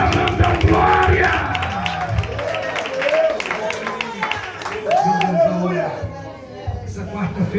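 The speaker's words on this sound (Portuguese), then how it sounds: "Bate palma" Church congregation clapping and cheering during a worship service, a loud crowd of claps mixed with shouts and raised voices, with a preacher's voice calling out over it.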